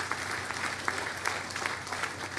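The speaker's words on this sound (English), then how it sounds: "Give them a great round of applause for the work that they have done." Crowd applauding at the grand opening ceremony of the WMATA Metrorail Silver Line, a steady wash of clapping that fills the whole stretch, moderately distant.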